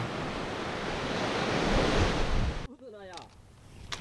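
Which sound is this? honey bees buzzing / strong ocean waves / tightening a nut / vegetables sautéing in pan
strong ocean waves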